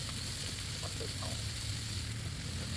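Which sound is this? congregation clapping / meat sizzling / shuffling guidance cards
meat sizzling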